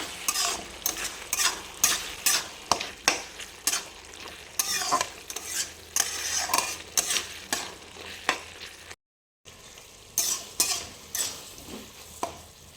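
A spoon scrapes and stirs a mushroom curry with chopped coriander leaves in a pan, giving a series of rhythmic strokes over a faint sizzle, close and moderately quiet, with one brief silent gap.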